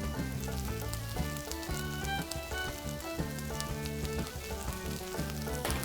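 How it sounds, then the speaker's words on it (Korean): Onions stir-fried in a pan over high heat for a school-catering lasagna give a steady, even sizzle throughout, with music playing over it. "볶는 정도는 양파의 색깔이 살짝 갈색빛이 날 때까지만 볶아주시면 됩니다"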